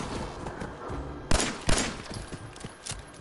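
Rapid video game gunfire rings out in quick bursts during a fight with ghouls, with two especially sharp, loud shots among the rattling volleys.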